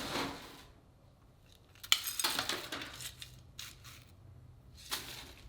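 Crushed ice scooped for a frozen fruit margarita in a bar setting: a few crisp clinking, scraping bursts, one sharp rattle near the middle, separated by quiet stretches, close and fairly faint.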